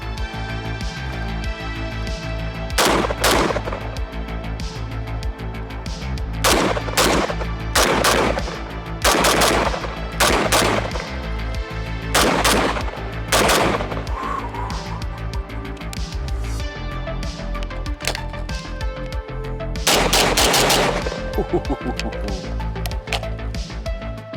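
FAL rifle firing outdoors, loud sharp shots, some single and some in quick pairs and strings, with pauses between groups and a burst near the end.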